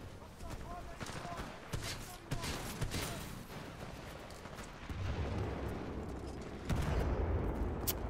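A grenade blast and bursts of gunfire in Titanfall 2 Nitro Capture the Flag, rapid cracking shots and rumbling detonation layered over continuous game noise, fairly quiet overall with a louder surge near the end.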